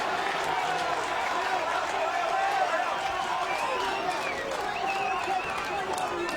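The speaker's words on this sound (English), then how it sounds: "Home crowd getting on Greg Charles there about that check swing." Home crowd at a college baseball game, Florida State versus Florida, booing and jeering a batter over a check swing, a steady broad roar throughout with an announcer talking over it.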